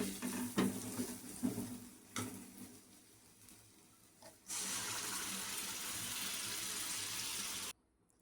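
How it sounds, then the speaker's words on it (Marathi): A few clanks and stirs, then a loud steady sizzle erupts as spinach puree hits hot oil and masala and keeps frying. "त्यामध्ये आपण आता पालक प्युरी ॲड करून घेऊया"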